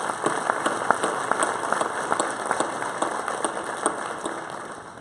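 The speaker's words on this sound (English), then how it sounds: "let's give those 2 a round of applause" Applause from a graduation ceremony crowd, a steady wash of many hands clapping at moderate distance, even and sustained throughout with no voices over it.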